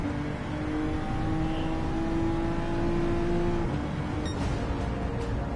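A Honda NSX race car engine in Gran Turismo 7 holds a steady high-pitched drone, then drops off as revs fall near the end, with no voices.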